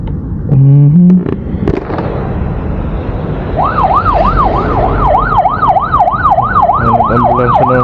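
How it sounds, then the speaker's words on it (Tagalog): An ambulance siren wails through traffic with a steady, fast up-and-down sweep that repeats loudly for several seconds, after a few short horn-like blasts and over a busy road rumble. "Ambulansya na lang bigla."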